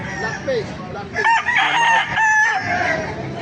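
Roosters crow close by at a market in Baliuag, Philippines, overlapping long strained calls, with other fowl clucking around them in a noisy yard.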